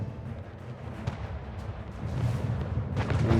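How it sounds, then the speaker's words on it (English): Cannon fire and destruction in the Anno 1800 strategy game, a run of dull booms and rumbling impacts that swell louder toward the end, moderately distant with no speech. "Another cannon destroyed."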